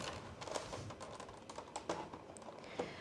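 Upside-down computer keyboard being patted to shake out dust and crumbs, a few quiet, irregular taps and clatters spread over a few seconds, faint and close.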